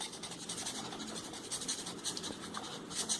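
A figure on paper is colored in by hand, with steady, continuous scratchy strokes of a coloring tool, close and fairly quiet, rising in short bursts as the hand moves back and forth.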